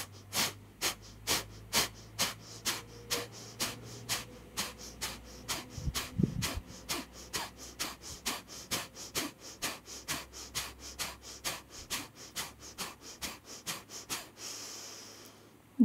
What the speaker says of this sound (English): we're only going to be breathing out through the nose, in and out through the nose, so the lips are sealed the entire time